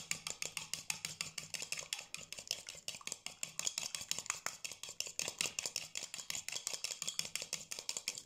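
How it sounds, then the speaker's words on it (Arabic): Egg whites beaten hard in a bowl until foamy, a rapid, even run of light clinking and scraping strokes, faint and close, with no talk over it. "هاخد معايا البتاع كده واضربهم كويس قوي مع بعض لحد ما يعملوا"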